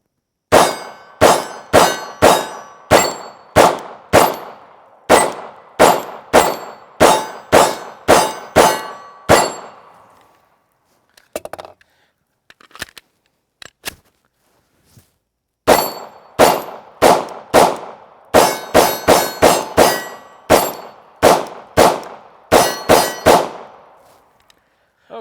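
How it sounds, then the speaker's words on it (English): CZ P-07 pistol shots at an outdoor range, each crack followed by the clang of steel targets, fired in rapid strings of about twenty rounds, then a quiet pause with a few faint clinks, then another fast string. "So let's go ahead and ring some more steel."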